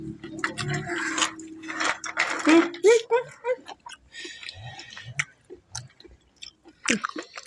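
Someone chews spicy Thai mixed-seafood papaya salad with fermented fish sauce, giving close, wet crunching and smacking bites in an irregular rhythm, with a voice talking briefly in places.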